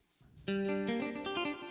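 A Yamaha PSR-E473 keyboard plays its clean guitar voice with the reverb raised. After a brief quiet moment, sustained chord-like notes ring out close and unaccompanied, their tails blurring together.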